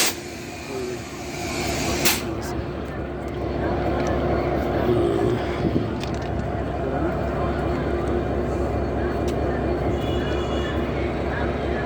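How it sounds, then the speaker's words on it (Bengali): A train idles and moves at a busy station on a route toward Rajshahi, a loud steady rumble and hiss with a brief clank early on, continuous throughout. "এই ট্রেনটা এখন চলে যাবে রাজশাহী দিয়ে"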